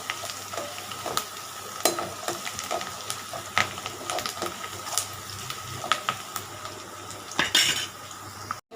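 Onion, curry leaves, green chili and ginger-garlic sautéing in a pan for poori masala: a continuous sizzle under repeated sharp clinks and scrapes of a metal spoon stirring against the pan, close and busy, no talking.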